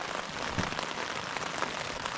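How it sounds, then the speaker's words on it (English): Steady rain patters on a tent at night in the Jotunheimen mountains, a dense, continuous hiss of drops close by, with no voices over it. "almost 10 p.m. and it's still raining."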